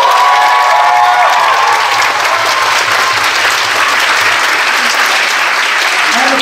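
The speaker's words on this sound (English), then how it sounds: "So huge round of applause for everyone." A loud, sustained wall of clapping and cheering from a concert audience at a spring a cappella riff-off, filling the whole stretch evenly and close up.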